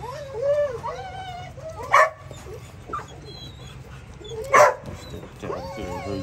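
A dog barks and yips at lunchtime, a few loud sharp barks spaced out among whiny, whimpering vocal sounds, with people talking nearby.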